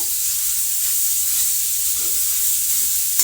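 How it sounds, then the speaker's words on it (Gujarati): Grated carrot for carrot kheer roasts in a pan while a spatula stirs and mixes it. A continuous close sizzle and hiss carries brief scraping strokes, and no one speaks. "તેને નાખીને હવે આપણે તેને તાવીથા વડે હલાવીને મિક્સ કરી લઈશું"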